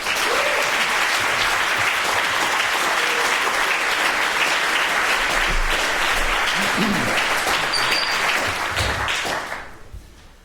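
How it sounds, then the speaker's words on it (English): A lecture audience claps at length to welcome a speaker, dense and loud continuous applause that fades out at the end. "I wonder if we could give Barry a very, very special round of applause"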